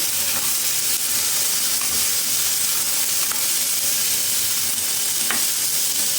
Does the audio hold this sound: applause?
no